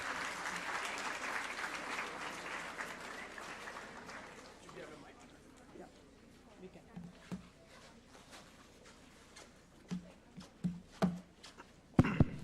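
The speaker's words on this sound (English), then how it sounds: "Let's welcome Mr. Pitti with a huge round of applause for taking out the time from his hectic schedule to be here with us." Audience applause welcoming a CEO to the stage at the IBC Hack Fest tech event: a dense, steady wash of clapping for about four seconds, then it thins to scattered claps and noises while a voice speaks.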